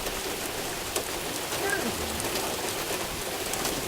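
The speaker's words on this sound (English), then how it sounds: "rain showering. I guess that's the partially technical term here." Steady sun-shower rain falling in a yard, a dense even hiss of drops pattering on surfaces, constant and close with no break.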